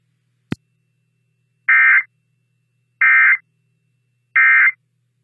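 Three identical electronic alert tones from an Emergency Alert System weekly test, each a loud, steady buzzing beep about a third of a second long, evenly spaced after a single sharp click, with silence between.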